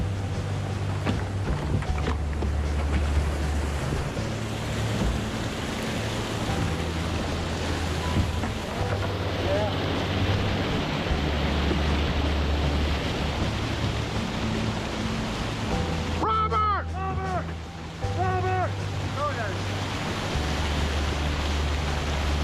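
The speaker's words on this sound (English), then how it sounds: "you notice in the dam all the water that's boiling" Strong churning water boils below the low-head river dam during the Elkhorn Dam removal, a steady loud roar of turbulent flow with brief splashing bursts partway through.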